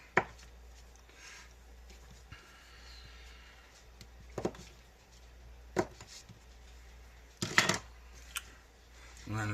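A knife slices a large chunk of cheese into slabs for a Thanksgiving dinner dip, giving a few sparse, soft knocks against the board spread over quiet room tone.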